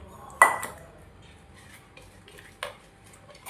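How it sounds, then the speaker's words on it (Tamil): A spoon clinks sharply against a bowl twice while chopped onion and other ingredients are mixed for a bread omelet, with faint soft stirring between the clinks in an otherwise quiet room. "நான் இந்த கிண்ணத்தில் எல்லாத்தையும் மொத்தமாக போட்டு கலக்க போகிறேன்."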